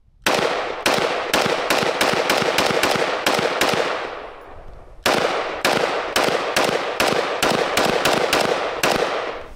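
Kalashnikov automatic rifle firing in two long bursts of rapid sharp shots, loud and close, each shot cracking with a ringing tail, separated by a brief pause.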